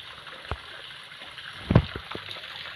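Water trickling and falling into a small natural rock pool on the bank of the Narmada river, a soft steady flow with a few faint splashes and gurgles, one slightly louder splash near the end.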